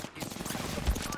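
Quick rattling gunfire in Apex Legends, a brief close burst of rapid shots with a voice speaking over it.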